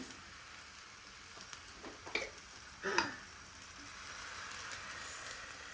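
Food frying in ghee in a pan, a soft steady sizzle with a few faint clicks of a utensil, quiet and continuous throughout.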